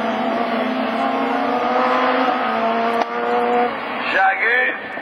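Rallycross Super 1600 cars racing at Lessay, a Renault Clio and an Audi, engines droning loud and steady before a sharp shift as one passes, with a commentator talking over the noise.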